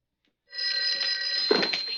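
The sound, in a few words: telephone ringing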